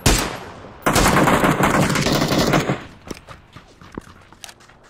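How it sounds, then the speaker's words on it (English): Sustained burst of automatic gunfire in a PUBG battle royale match, loud and dense for about two seconds, then trailing into scattered single shots and softer impacts. "The guy from town is still shooting at us."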